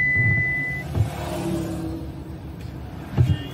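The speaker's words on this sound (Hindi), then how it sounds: "फ्रेंड्स, मैं फिर गाड़ी को और सामने की तरफ लेकर जा रहा हूँ।" A car engine hums and rumbles steadily as the vehicle creeps forward, with a few low thumps and a brief high tone early on, moderately close with no talking.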